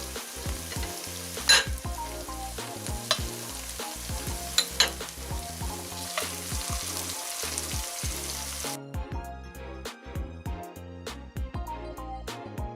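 Vegetables sizzle and fry in flavoured chili oil for a spicy Asian oxtail stew, a steady hiss punctuated by frequent clinks and scrapes of stirring, with a brief lull near the end.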